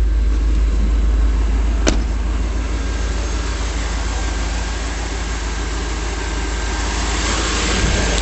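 A 1989 Chevrolet farm truck engine idles steadily, a loud low rumble that runs on without pause, with one sharp click near the start and no voices.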